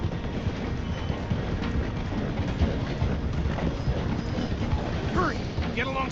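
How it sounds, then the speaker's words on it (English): A train in Red Dead Redemption 2 slows through a station, a dense steady rumble and clatter of wheels and carriages with faint voices in the mix. "The train is slowing down to go through the station."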